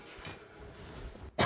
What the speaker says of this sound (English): sorry about my coughing, if you guys can hear that